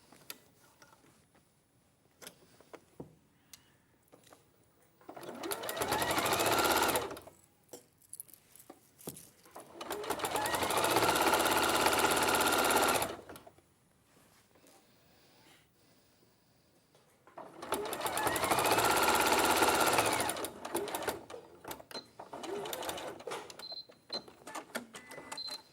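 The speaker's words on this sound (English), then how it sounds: "And then we're going to sew down that long edge." A sewing machine stitches down a long fabric edge in three loud mechanical bursts of a few seconds each, separated by quiet pauses with light handling noises.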